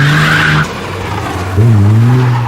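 A 1988 BMW M5 Series 2 is driven hard, its tires squealing in long loud howls with the engine droning close by.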